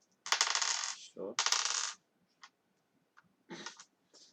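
Plastic dice clicking and rattling as they are stacked at a tabletop role-playing game, with two dense bursts of clatter followed by a few lighter separate clicks, close and fairly quiet, with a brief spoken word.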